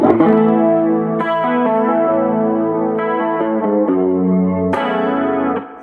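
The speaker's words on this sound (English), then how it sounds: "The chorus on it is really, really good too, if you're playing any kind of 80s anything." An electric guitar in a country jam band rig plays sustained chords through a chorus effect pedal, shimmering and slightly distorted, loud and close with changes every second or so, fading at the end.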